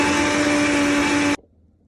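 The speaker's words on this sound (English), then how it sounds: "I have a high-speed blender." A high-speed blender runs on green juice with a loud, steady whir and a hum, then cuts off abruptly, leaving a brief faint rattle.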